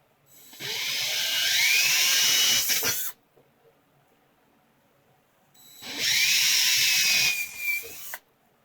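A power drill cuts into material while an antenna is built, two sustained high whining bursts of about two and a half seconds each, separated by near silence.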